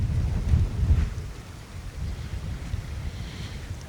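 Gusty wind blows outdoors at a winter campsite by the Dnieper, beside an inflatable tent with a stove pipe, making a low, steady rumble that swells in the first second and then settles into a softer, continuous buffeting.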